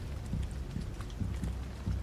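Rain falling in the Detroit: Become Human video game, a soft steady patter with occasional heavier drips and low thuds, fairly quiet and without voices.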